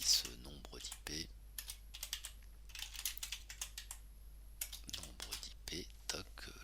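Typing on a computer keyboard comes as quick, irregular key clicks in short bursts, fairly faint and close, mixed with soft murmured speech.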